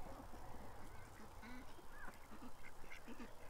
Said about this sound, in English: The ducks are going to Florida for the winter, Brian.